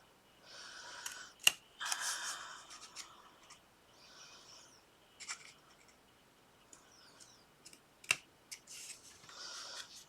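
Scissors cut a paper triangle for a handmade card, giving sharp snips and soft rubbing paper sounds in sparse bursts, close and faint, with no talking.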